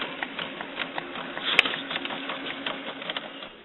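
A Canon inkjet printer, an MX892 or similar PIXMA model, runs a cleaning cycle: continuous mechanical whirring and rattling with rapid ticking patter, one sharp click midway, steady and close.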